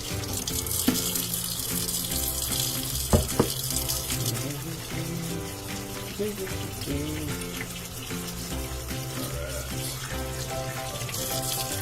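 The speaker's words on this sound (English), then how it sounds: "So let's wash our hands before we touch anything, right?" Hands being washed under a running kitchen tap, a steady broadband rush of water pouring into a sink that continues for about twelve seconds, with a few brief clunks and knocks partway through.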